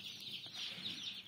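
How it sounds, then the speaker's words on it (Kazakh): Hen from an incubator clutch clucking steadily with her chicks, soft continuous chirping and clucks close by, no talk. "Мына тауық инкубатордан шыққан"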